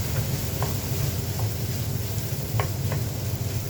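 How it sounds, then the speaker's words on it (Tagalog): Eggs frying in a pan with a continuous close sizzle, while a spatula stirs and scrapes against the pan a few times. "Halo-halo pa rin tayo mga kaibigan hanggang sa maluto yung ating itlog."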